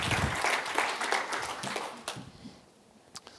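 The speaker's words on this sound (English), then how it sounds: "Give them an applause." Audience applause for panelists at an EU panel discussion, a moderately faint patter of many hands in a hall that fades out over a few seconds, leaving a couple of stray claps.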